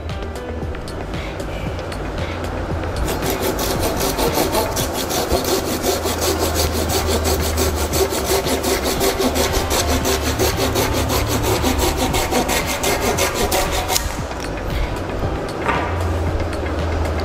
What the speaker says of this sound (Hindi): जिसकी आरी की मदद से हमने इस लकड़ी को काटा है